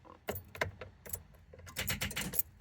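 A bunch of car and house keys jangles close up in a few short, bright metallic bursts and rattles, quiet and alone with no talk.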